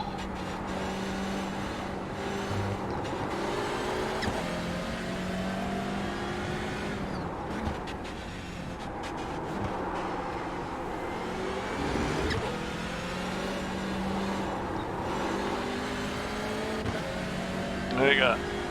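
Two Porsche race cars pass on the Nürburgring during an endurance challenge, engine notes rising and falling as they rev, shift and sweep by at moderate distance, heard under ongoing commentary.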